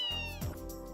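A cat meows once in the video game Trails in the Sky FC, a short, close, clear meow lasting about a second with no talking over it.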